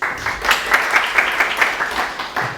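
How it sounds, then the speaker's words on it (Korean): Audience applause for a speaker at a Korean university technology-management lecture, a short burst of steady clapping across a few seconds with no talk. "큰 박수로"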